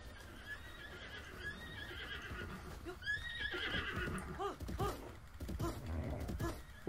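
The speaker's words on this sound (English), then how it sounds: "Come here, horse." A horse whinnies in The Legend of Zelda: Breath of the Wild, a long, quavering neigh that rises and falls, followed by clip-clop hoofbeats and creaking, moderately close with faint game ambience.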